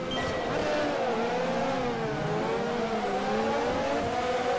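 F1 race cars of 1988 launching at the start of the British Grand Prix in Automobilista, a loud whining chorus of engines rising and wavering in pitch as they accelerate together off the line.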